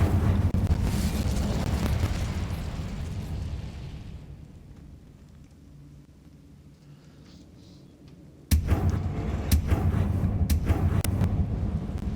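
An Incendio fire spell is cast in a wizard video game inside a cavern prison: a roaring rush fades to a low hum, then a sudden loud burst of flame erupts and keeps crackling.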